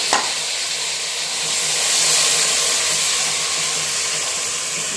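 Fresh green peas hit hot oil with curry leaves and onion for a vegetable kurma, giving a loud, dense sizzle with a sharp onset that hisses steadily throughout, no voices over it.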